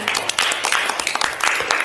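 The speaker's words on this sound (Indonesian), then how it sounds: "Oke, tepuk tangan." Students clapping in a classroom, a dense burst of hand claps that stays fairly loud and steady for a couple of seconds.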